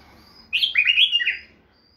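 A pair of Basra bulbuls sing a bright, warbling phrase lasting about a second, close and clear, with a faint high call before it and quiet room hum around it.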